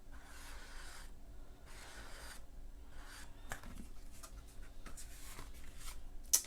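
A fine-tipped marker drawing around the edge of a card makes quiet scratchy strokes in short bursts with pauses, faint and close, with small taps in between.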